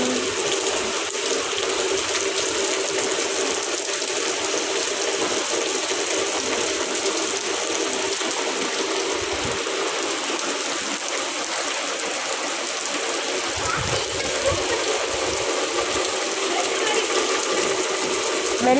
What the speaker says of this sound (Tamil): இன்னும் மழை, நல்ல மழை.